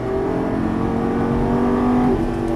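A Lamborghini Gallardo LP550 accelerates on a racetrack, its engine loud and close, with a steady tone that climbs slightly and holds throughout.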